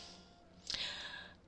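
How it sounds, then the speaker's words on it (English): A single drawn-out human yawn with a breathy, strained rise, oddly shaped and close to the mic, heard alone in a quiet room. "That was a really weird yawn."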